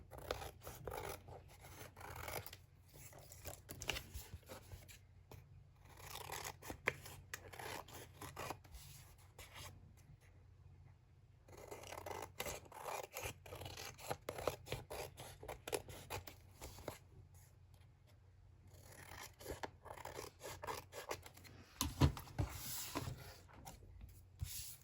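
Scissors snip away extra cardstock around a handmade baby mini album, a series of quiet close crisp cuts and rustles in irregular bursts with short pauses between them.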